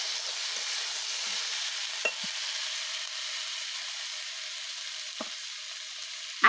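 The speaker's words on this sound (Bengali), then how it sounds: "টমেটোটা দিয়ে একটু নাড়াচাড়া করে নেব" Chopped tomato and potatoes fry in a pan for a fish curry, a steady bright sizzle with a few light spatula taps and scrapes, no voices.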